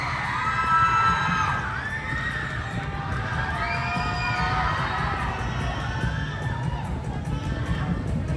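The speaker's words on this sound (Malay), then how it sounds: "Berikan tepukan Tati Sherlina Cassidy." An audience cheers and shouts at an Unduk Ngadau Kaamatan pageant catwalk, with high excited voices rising and falling over a constant crowd roar for over eight seconds.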